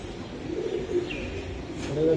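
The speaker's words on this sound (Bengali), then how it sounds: "এটা একটা নর কবুতর" A male racing pigeon gives soft, low coos at close range over a steady background hum, with faint voices nearby.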